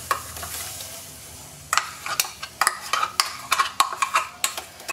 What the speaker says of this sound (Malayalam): നമ്മൾ ഈ അരപ്പങ്ങ് ചട്ടിയിലോട്ട് ഇട്ട് കൊടുക്കുക.